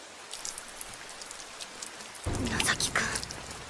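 Rain falls in an anime scene, first as a light, steady hiss, then suddenly swelling into a heavier, fuller downpour with spattering drops partway through.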